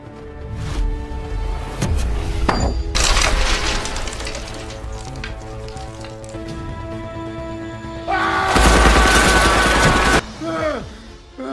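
Gunfire from a prison-fighter action film fight scene: loud bursts of rapid shots and impacts, with heavy booming hits and a long sustained fusillade near the end, mixed with music and effects.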